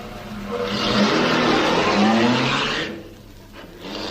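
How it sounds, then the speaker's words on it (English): Car engine starts and pulls away as a radio comedy sound effect, a loud sustained rumble with some tyre squeal that drops off after about three seconds, then picks up faintly again. "then he'll drive off."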